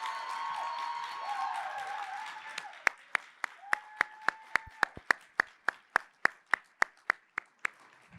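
Audience applause at an alumni association scholarship award ceremony, a crowd clapping steadily while a voice speaks over the start, then thinning to a few loud, evenly spaced claps close by.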